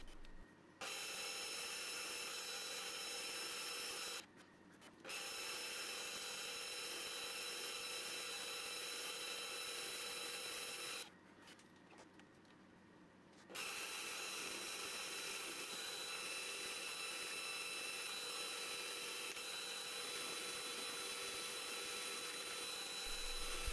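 Power drill boring holes and routing slits in a wooden flip stop for a small crosscut sled, a steady loud whine running nearly the whole time with two brief pauses, alone without talk.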